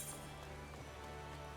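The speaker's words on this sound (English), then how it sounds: "Raining." Steady rain falls in the video game Final Fantasy XIV, a faint, even hiss of drops hitting surfaces with no other sounds standing out.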